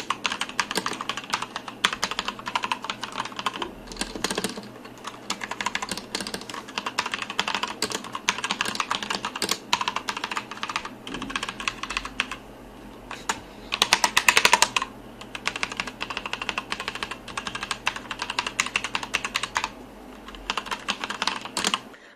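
Typing on a Royal Kludge G87 mechanical keyboard, a dense run of close, crisp key clicks with brief pauses and occasional louder bursts, heard alone without talk.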